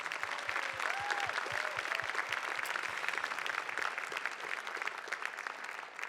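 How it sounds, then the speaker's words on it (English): Sustained audience applause at the Tacoma Reads 2025 community event fills the room, a dense, steady wash of clapping with a few faint whoops rising above it. "So please give Amy another round of applause"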